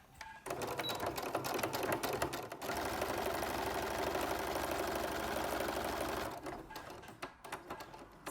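A sewing machine runs in a steady continuous burst while stitching a French seam with a vent, starting and stopping briefly at the ends, close and fairly quiet.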